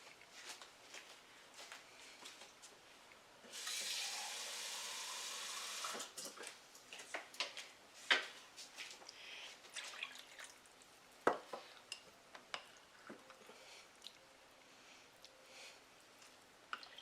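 Tap water runs briefly into a container in a home kitchen, a soft, distant stream followed by scattered faint drips and small clinks, all quiet.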